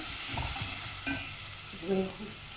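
Minced onion and chickpeas sauté in a pan with a steady hissing sizzle and a few stirring scrapes, close and continuous, with no talk over it.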